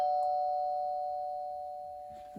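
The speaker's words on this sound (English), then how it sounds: "Doorbell?" A single electronic doorbell chime rings out clearly and sustains, slowly fading over a couple of seconds.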